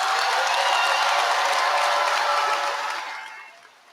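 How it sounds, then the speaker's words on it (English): A large crowd applauds the graduates at the Southern University Law Center spring commencement ceremony, with dense, loud clapping that fades away over the final second. "We salute this graduating class today. Let's give all of them a big round of applause."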